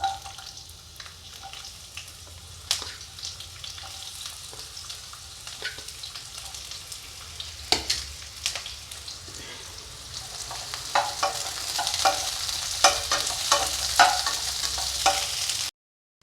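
Chopped onions sizzle and crackle in hot oil, with intermittent scraping stirs and a frying hiss that grows denser toward the end.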